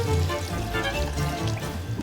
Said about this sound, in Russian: Заливайте поскорее в кастрюлю воду.